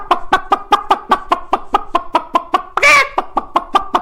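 A human voice imitating terrified, clucking chickens in danger, rapid rhythmic clucks about five per second, close and loud, with one longer squawk in the middle.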